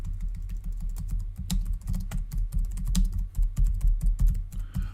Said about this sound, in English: apologies for the keyboard noises.